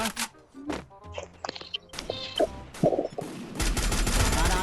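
Gunfire in the video game Free Fire: scattered shots followed by a dense, rapid burst of automatic fire, loud and close.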